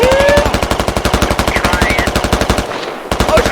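A machine gun in the video game Squad fires in a long, loud, close burst of rapid, evenly spaced shots, with a brief pause near the end before the firing resumes.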